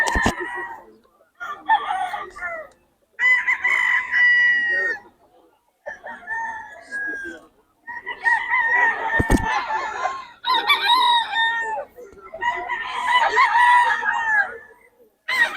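A bull stag game fowl rooster at a festival expo crows repeatedly and loudly up close, several long calls in a row separated by short pauses, with a sharp knock partway through.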